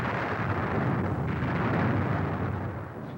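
Incoming artillery shelling on the Marine base at Khe Sanh during a siege, heavy barrage of explosions blending into a loud continuous rumble of booms, dense and sustained throughout without speech.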